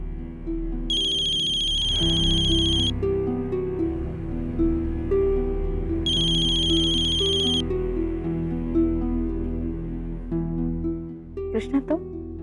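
A bright electronic ringtone plays in two bursts a few seconds apart over a loud, tonal music track, with a brief voice near the end.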